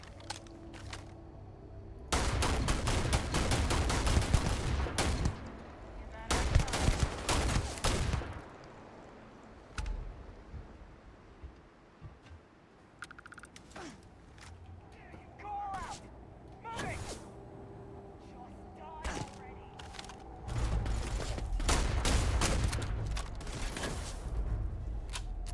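Bursts of rapid gunfire in Starfield come in several loud clusters of sharp repeated shots, separated by quieter stretches with scattered impacts and mechanical clicks, with a voice talking at times between them.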